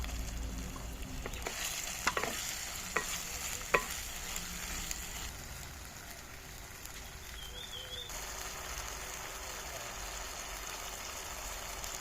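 Onion, ginger-garlic paste and chili-cumin paste frying in a pan for a chicken dish, a low steady sizzle with a few sharp utensil taps early on, quiet and close.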